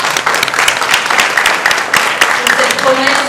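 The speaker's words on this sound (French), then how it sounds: "On applaudit très fort." An audience at a French spelling-championship show applauds loudly: a steady, full wash of many hands clapping, close and sustained throughout.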